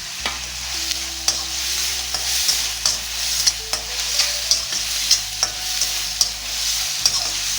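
Garlic and curry leaves sautéing in a generous amount of oil for prawn thokku, a steady close sizzle punctuated by regular sharp clicks of a spatula stirring against the pan.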